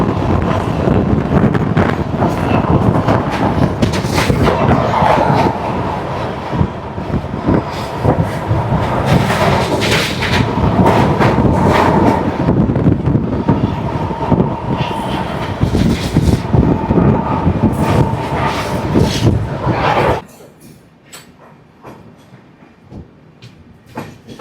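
The Netaji Express, train 13051 from Howrah to Kalka, crosses the Yamuna river bridge near Prayagraj with a loud, continuous rolling rumble and rattling wheels, mixed with wind buffeting. The noise drops abruptly to a quieter hum near the end.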